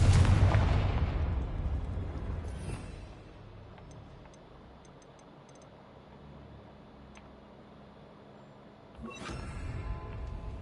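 A Confringo fire-blast spell from Hogwarts Legacy bursts loudly at the start, fades into quiet rumbling ambience, then a second sharp burst erupts near the end.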